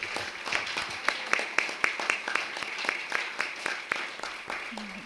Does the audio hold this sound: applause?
yes